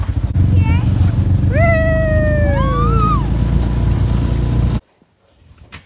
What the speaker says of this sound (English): no video would be complete without one of the lovely barn kitties